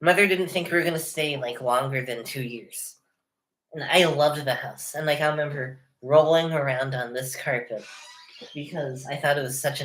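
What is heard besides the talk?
None of the usual background noises is heard.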